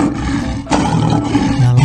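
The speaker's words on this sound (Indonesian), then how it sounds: "Singa." An African lion roars loudly and close, a deep sustained rumble with a sharp surge midway, heard alone without any talk.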